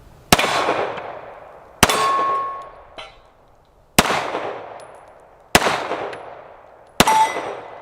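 A 9mm Taurus pistol fires five shots at a steel rabbit target on a range, evenly spaced about a second and a half apart. Each shot gives a sharp metallic clang that rings and decays before the next.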